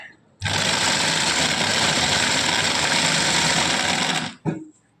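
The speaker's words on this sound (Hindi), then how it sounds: "तो ये इक्वल अब सिलाई करेगी।" A picot sewing machine stitching a fabric edge runs in one steady, loud, fast mechanical whir for about four seconds, then stops with a short clunk.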